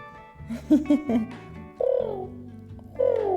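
A person imitates a pigeon cooing with a few short throaty coos followed by two longer, drawn-out warbling coos, close and fairly loud.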